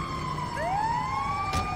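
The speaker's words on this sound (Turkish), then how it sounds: "Bir ambulans gidiyor zannettiler." An ambulance siren in the video game GTA 5 wails steadily and loudly with rising and falling sweeps, alone without talk.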